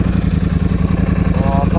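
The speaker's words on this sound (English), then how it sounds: "I love idling through past everyone. Yeah. Just sit on first, and you get that nice pop." A Ducati motorcycle engine idles in first gear, its loud, close, throbbing pulse repeating steadily over a rushing wind-like roar.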